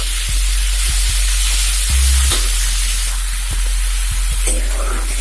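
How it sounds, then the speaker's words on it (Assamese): Chopped onion and tomato fry in a hot wok, giving a steady close sizzle with a few sharp clicks and scrapes from stirring. "এতিয়া মই ভালদৰে ভাজি লৈছো গলি যোৱালৈকে"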